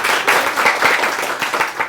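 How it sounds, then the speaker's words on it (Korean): High school students in a classroom break into brief, lively applause before a classmate presents, many hands clapping close and loud for about two seconds. "박수!"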